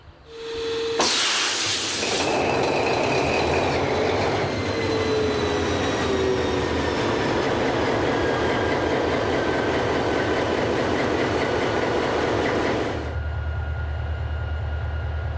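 A diesel locomotive engine of an SNCF CC 72000 starts with a sharp hiss, then settles into a loud, steady rumbling drone that continues before dropping to a lower idle.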